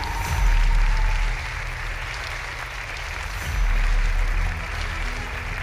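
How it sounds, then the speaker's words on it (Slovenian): Applause fills a school hall during a class-photo moment at an end-of-year event, a steady sustained clapping from the audience that swells near the start, eases, then swells again. "Takole, aplavz prosim"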